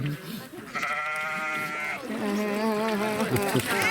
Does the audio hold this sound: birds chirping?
no